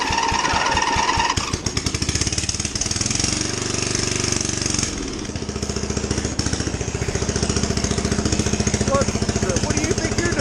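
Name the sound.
racing lawnmower engine running without exhaust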